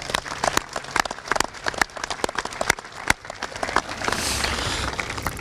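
A crowd applauds at a high school commencement ceremony, clapping in a steady patter that swells briefly toward the end.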